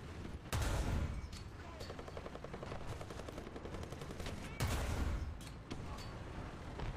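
Gunfire in War Thunder, rapid machine-gun bursts with a pulsing rhythm and two heavy booming volleys, close and loud, with a voice talking faintly under it.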